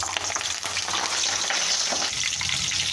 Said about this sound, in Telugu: ఆయిల్ కూడా వేడైపోయింది. దీంట్లోకి అయితే కొద్దిగా కరివేపాకు అయితే వేసేసుకుంటున్నాను.